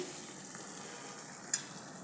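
Masala for egg curry fries in a pan with fresh coriander added. A soft, steady sizzle continues throughout, with one brief crackle near the end.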